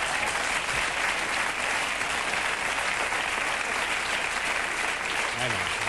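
A late-night TV studio audience breaks into sustained applause on cue from the applause sign, a dense, even roar of clapping that stays loud from start to finish, with a voice briefly audible near the end.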